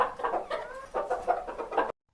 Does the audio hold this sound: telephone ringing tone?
no